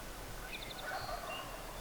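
A wild turkey gobbles across a river, a rapid rattling call heard faint and distant over open-air background noise, with no talking during the call.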